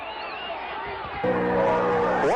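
Fans fill the stands at the 1986 Glasgow Scotties state championship high school football game, a steady distant crowd murmur that swells slightly partway through as an announcer's voice carries over it.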